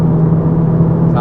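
An Audi S3 8V with a custom valved exhaust drones in a steady low hum at cruising speed, loud and continuous with no change in pitch, heard alone.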